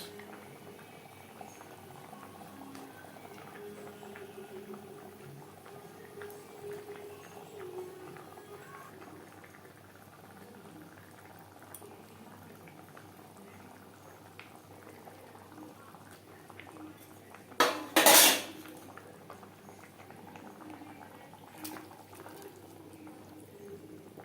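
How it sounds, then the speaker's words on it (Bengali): Fish gravy for a spicy Poa Bhola fish curry bubbles steadily in a pan, a continuous soft boiling burble throughout, with a brief louder clatter near the end. "গ্রেভি বেশ ভালো করে ফুটতে শুরু করে দিয়েছে"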